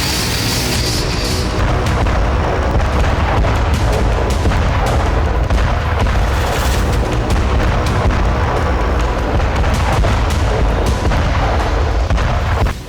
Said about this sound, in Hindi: MLRS से जबरदस्त गोलाबारी की गई है